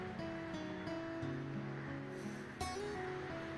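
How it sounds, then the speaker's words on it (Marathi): Sea waves wash softly and steadily against the shore, faint and continuous beneath gentle background music. "किती सुंदर असतो ना हा समुद्र."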